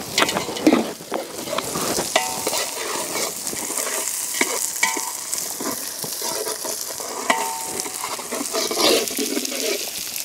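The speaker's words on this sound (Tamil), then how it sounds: "பூண்டு போட்டாச்சு. நல்லா வதக்குமாங்க." Garlic sautés in a pan with a loud, continuous crackling sizzle, punctuated by stirring scrapes and small clicks, with no one speaking.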